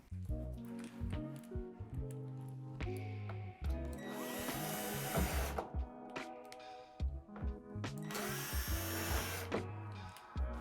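A power drill drives screws into the pre-drilled holes at the top of a plastic Lifetime 8' x 5' Modern Shed doorway, whirring in bursts with two longer, louder high-pitched runs. The drilling is close, steady and without talk.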